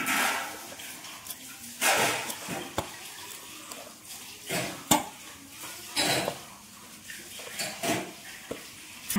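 A spoon scrapes and clanks against a bowl as sweet potato dough is mixed with a pinch of baking soda, giving irregular close clinks and knocks with soft stirring in between.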